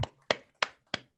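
Four separate claps, evenly spaced and fairly close, from participants in an online workshop clapping for themselves over a quiet background.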